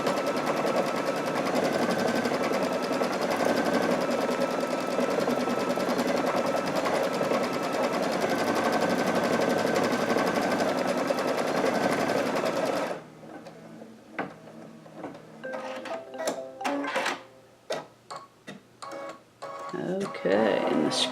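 An embroidery sewing machine stitching out a sashing design, a loud, continuous mechanical whirr with rapid needle chatter that runs for about thirteen seconds, then stops and gives way to scattered clicks and handling noises.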